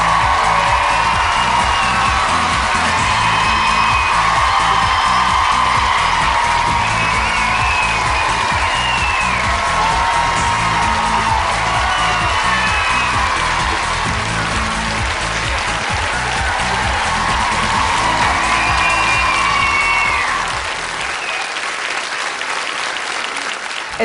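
A studio audience applauds loudly and steadily, with cheers and whoops rising over the sustained clapping for about twenty seconds before it fades.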